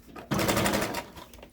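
A short burst of a sewing machine back stitching while making a plastic bag holder, a loud rapid whirring run lasting under a second that then fades.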